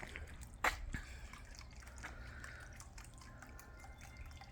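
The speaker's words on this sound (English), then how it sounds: "Couple of water features." Water features trickling in a stone front courtyard of a house, a faint steady flow with one brief louder splash or drip near the start.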